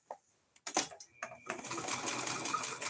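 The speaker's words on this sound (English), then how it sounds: "All right, Laurel, you got to put down a straight stitch." A sewing machine runs a straight stitch while a coaster is made, starting after a few short clicks and handling sounds, then a steady close mechanical whir that fills the final second and a half.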